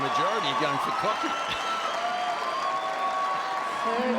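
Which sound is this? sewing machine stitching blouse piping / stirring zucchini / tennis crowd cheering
tennis crowd cheering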